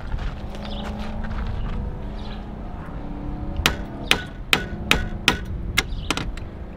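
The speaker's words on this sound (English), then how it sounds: "we're gonna grab a fucking big ass hammer I brought" Heavy hammer blows from a big hammer ring out on an Audi/VW boost tap job, about seven sharp metallic strikes in a steady rhythm over a low background rumble, close and loud.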